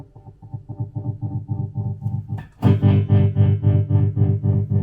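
A guitar played through a 65Amps Tupelo amp with a faulty tremolo effect gives a choppy, pulsing throb that jumps to a loud, distorted, buzzy tone partway through, with no talking.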